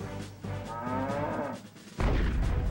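A cattle herd stampedes in South Park: Chef's Luv Shack, with a drawn-out moo over rumbling hooves and a loud, heavy surge of the stampede at the end.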